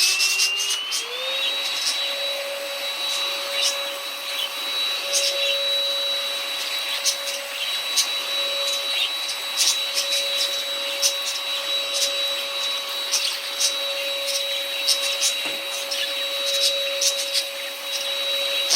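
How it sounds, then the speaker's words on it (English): An Inse cordless vacuum cleaner on high picking up a small scattering of bird seed, a steady, loud motor whine that rises in pitch at the start, with faint ticks from the seeds over about nineteen seconds. "But watch when I try to vacuum this, just this little bit of bird seed."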